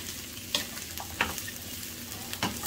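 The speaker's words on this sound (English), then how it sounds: "Once your mushrooms are in the pan, stir them around." Mushrooms sauté in olive oil in a pan, a continuous sizzle broken by three distinct scraping stirs spaced about a second apart, close and with no talking.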